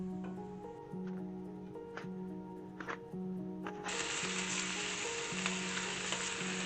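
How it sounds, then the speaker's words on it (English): Pork belly browning in a pan for a kakuni braise, frying steadily with a constant close sizzle that grows louder and brighter partway through, accompanied by a low repeating hum. "And so now I am going to brown the pork belly."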